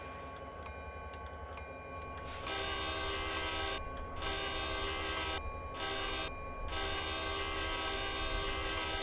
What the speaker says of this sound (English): let's go ahead and sound the horn and the bell here